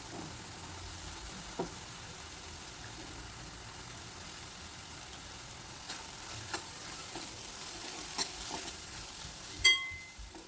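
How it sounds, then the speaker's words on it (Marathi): Sprouted moth beans frying with spices in a pan as they are stirred, a steady low sizzle broken by a few soft scrapes and one louder knock near the end, close and quiet, with no talking. "त्यामध्ये मोड आलेली मटकी टाकायची आणि चांगले परतवून घ्यायची"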